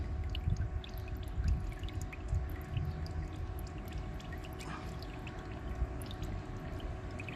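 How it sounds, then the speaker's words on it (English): Engine oil drains from a 2020 Chrysler Pacifica into a pan as a steady, soft pouring trickle with scattered faint drips, continuous and close. "you're just gonna let it drain out"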